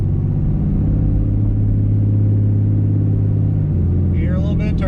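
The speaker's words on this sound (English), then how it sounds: "You hear a little bit of turbo." Turbo whistle from a 6.7 Cummins diesel pickup fitted with a budget aftermarket air intake, faint over a loud steady engine drone and road rumble, with a brief rising whine near the end.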